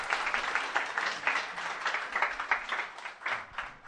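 Short round of audience applause at a live Korean show's prize giveaway, individual claps audible in an uneven rhythm, moderately close, fading slightly toward the end with no talking over it.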